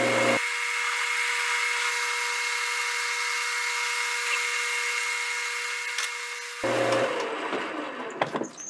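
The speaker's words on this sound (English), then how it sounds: "I'm going to clean them up in the lathe" A lathe cuts and chamfers sleeve pieces for TPU shock absorber bushings with a steady, close machining whine. The pitch drops and the tone changes near the end as the cut finishes.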